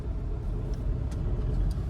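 A car moves through traffic, heard from inside as a steady low engine and road rumble throughout, with no talk.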